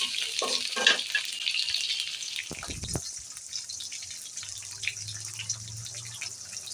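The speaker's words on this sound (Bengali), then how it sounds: "কালো এলাচ দিয়ে লাল লাল করে ভেজে নিতে হবে" Bay leaf, cinnamon and cardamom frying in hot oil with cumin, onion and green chili for a chickpea khichuri, giving a steady close sizzle broken by a brief scrape of stirring, with no talk.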